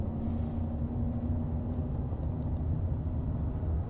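A car accelerates in the game Arma 3, giving a steady, low engine rumble with a constant droning hum that holds for a few seconds without voices.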